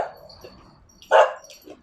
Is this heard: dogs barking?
yes